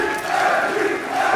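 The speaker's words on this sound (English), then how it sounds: "And the crowd." Crowd at a DreamHack Open Tours 2018 esports match, EnVyUs versus HellRaisers on Mirage, a steady broad roar of many voices cheering, loud and sustained throughout.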